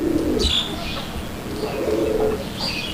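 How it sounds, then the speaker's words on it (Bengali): Local desi pigeons coo nearby in soft, throaty bursts, several overlapping calls over a low background murmur. "ও ডাক তো থামেই না ভাই সারাদিন থাকবে"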